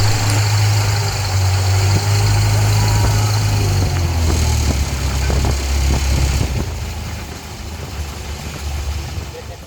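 A boat engine drones steadily with a deep, throbbing hum on choppy water, its pitch shifting partway through, under a wash of wind and water noise.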